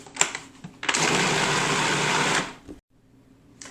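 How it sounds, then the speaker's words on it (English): A food processor purees fresh strawberries for a keto sugar-free jam, a loud steady whirring drone lasting about a second and a half before it cuts off, with brief pulses just before. "we're going to make a puree out of them very simply in the food processor"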